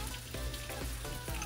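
Ginger sautéing in hot oil alongside Chinese sausage for arroz valenciana gives a soft, close frying sizzle with faint rhythmic stirring taps, quiet and without talk.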